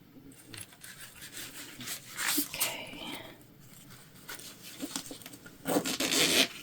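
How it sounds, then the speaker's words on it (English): Zipper teeth on a sewn shoulder bag are pulled apart in a few short raspy bursts, close and fairly quiet, with soft handling rustle between them. "So we're just going to separate our zipper teeth."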